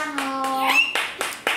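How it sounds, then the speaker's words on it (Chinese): A short run of hand claps, about five quick slaps, mixed with a voice and an adult speaking playfully nearby indoors. "拍拍手，好棒哦"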